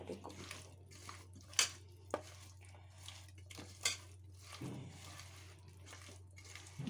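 A spoon scrapes and clinks against a bowl as a green-banana mixture is stirred by hand, giving a few sharp metallic knocks between softer scraping with quiet pauses in between.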